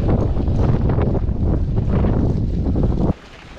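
Strong wind buffets a microphone during a mountain bike ride in the hills near Roses, Spain, a loud continuous roar of gusts that cuts off abruptly near the end.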